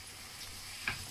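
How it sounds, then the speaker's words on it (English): Potatoes for a Spanish omelette fry in a pan, giving a soft, steady sizzle with one brief louder crackle near the end, no talking. "so we cook the potatoes first"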